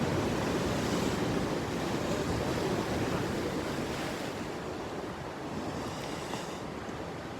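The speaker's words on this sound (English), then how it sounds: "With the sound of the sea in the background." Sea waves break against coastal cliffs near Sydney in a continuous rolling wash of surf, fairly loud and close, with wind buffeting the microphone and the roar easing slightly toward the end; nobody speaks.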